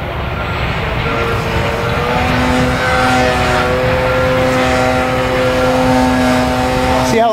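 Radio-controlled airplane doing a knife edge spin with the spoileron mix off: a steady, loud droning engine tone, close and continuous, with slight pitch shifts throughout.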